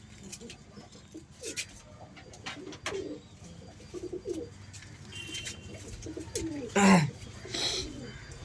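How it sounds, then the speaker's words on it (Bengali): Pigeons coo softly at close range among a flock, with faint flutters, scattered chirps and background noise, while a person talks quietly nearby. "পায়রা দেখাচ্ছি দেখো।"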